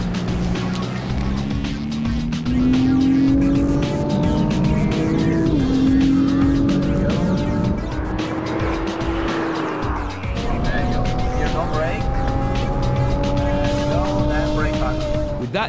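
A Nissan GT-R supercar is driven hard around a race track, its engine note loud and continuous, rising and falling through gear changes, with tyre squeal and other cars nearby.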